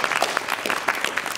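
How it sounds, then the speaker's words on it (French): Audience applause at a live stand-up comedy show, a dense steady patter of many hands clapping together, fairly close and sustained without pause, with no talking over it. "On peut l'applaudir"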